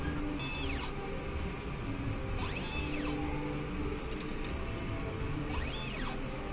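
A printer runs its print head cleaning cycle with a steady mechanical hum and repeated rising-and-falling motor whines about every two and a half seconds, plus a few faint clicks, close and with no voices.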